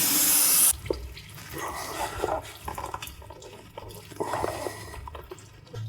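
Brake cleaner sprayed from an aerosol can onto a car differential, a loud hissing burst at the start, then irregular spattering, dripping and wet rattling sounds close by.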